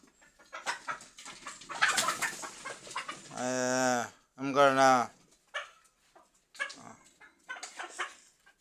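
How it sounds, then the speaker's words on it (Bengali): Hens in a small backyard flock of Fayoumi chickens give a few drawn-out, tonal clucks and calls amid scattered rustling and other background noises, close by and fairly loud. "এই যে মুরগিগুলা একদম শান্ত সুস্থ"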